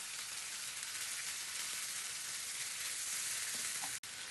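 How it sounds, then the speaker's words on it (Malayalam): Spiced beef mince sautéing in about three tablespoons of hot oil in a pan for meat cutlets, a continuous even sizzle with a single brief click near the end, nothing else over it. "ഒരു പാനിലേക്ക് ഏകദേശം ഒരു 3 ടേബിൾ സ്പൂൺ എണ്ണ ഒഴിച്ച് ചൂടാക്കി നല്ല മിക്സ് ചെയ്ത് വെച്ചിരിക്കുന്ന ബീഫ് ഇട്ട് നന്നായിട്ട് വഴറ്റിയെടുക്കാം."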